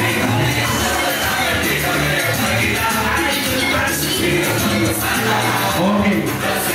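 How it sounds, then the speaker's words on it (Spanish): A live audience at a Spanish-language stage show breaks into loud, sustained clapping mixed with cheering and shouts, a dense roar filling the whole stretch. "¡Aplausos, mamá!"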